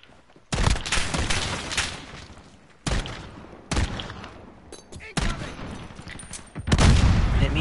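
Gunfire in the Modern Warfare beta video game: several loud bursts of rapid shots separated by short pauses, close and punchy, with a voice talking faintly in between.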